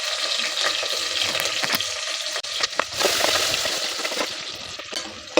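Chopped onions sizzle and crackle steadily in a hot pan of oil for hotel-style veg pulao, with occasional stirring scrapes and clatters, close and fairly loud, and no talking.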